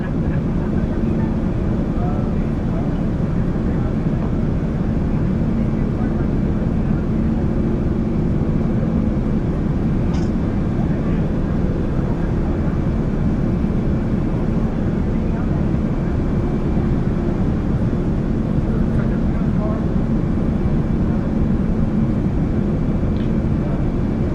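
Steady, loud cabin drone of a Royal Thai Air Force Airbus A340 airliner approaching Innsbruck airport in Austria, a broad low roar with no breaks across the whole stretch.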